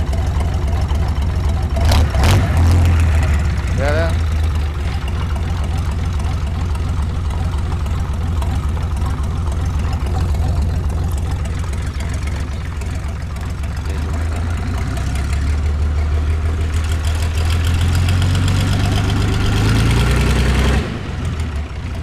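A Hino WO6D six-cylinder diesel engine runs loudly and steadily at close range, its low rumble holding throughout with a brief rise near the start and a heavier surge toward the end before it cuts off.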